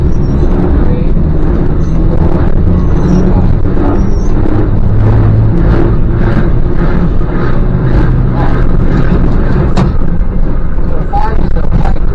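Streetcar running at the Pennsylvania Trolley Museum, a loud continuous rumble of motors and wheels on track with occasional knocks, with people talking over it.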